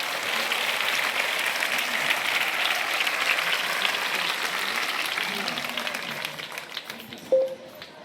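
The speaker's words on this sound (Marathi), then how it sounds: "तुमच्यासाठी जोरदार टाळ्या वाजा, तुमच्या स्वतःसाठी" Loud, sustained applause from a crowd of school students at a Republic Day high school gathering, steady clapping for several seconds before tapering off near the end.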